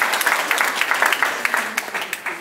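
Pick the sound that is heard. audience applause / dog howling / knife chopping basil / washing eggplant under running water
audience applause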